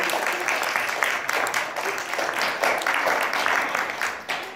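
Audience applause for a volunteer who has joined a magician on stage at a magic show, a dense, steady burst of many hands clapping that lasts the full few seconds without pause.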